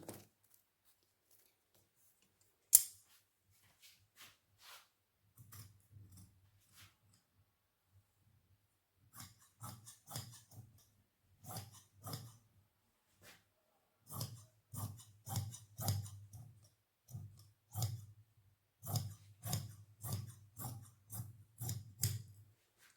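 Scissors snip through salwar fabric, marked at the hem curve, in a steady run of close, crisp cuts that speed into a dense rhythmic series after a few scattered opening snips.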